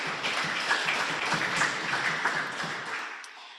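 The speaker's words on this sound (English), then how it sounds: "they need a big round of applause right here" Audience at a Rotary club meeting giving a round of applause, dense clapping from many people sustained at a steady level and then tapering off near the end.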